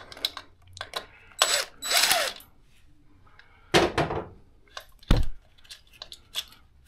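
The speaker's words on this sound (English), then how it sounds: "8mm socket on there now. These bolts and spacers will come out." Ratchet wrench with an 8mm socket backing bolts and spacers out of a 2024 Suzuki DR650 motorcycle, close-up bursts of clicking and metallic rasping separated by short pauses.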